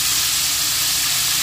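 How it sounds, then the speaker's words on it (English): Chicken pieces frying in hot peanut oil, a close, loud, continuous sizzle and hiss with steady bubbling and no voices. "And peanut oil has good frying properties, and it makes it like the crust really nice and pretty"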